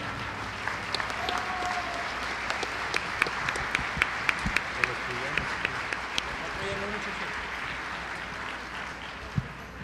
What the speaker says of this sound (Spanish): Recibimos al Padre Fernando con un fuerte aplauso.